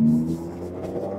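A K-swapped 1982 Lancia Beta Zagato accelerates, its engine note loud and close with a steady rising drone and no voices over it.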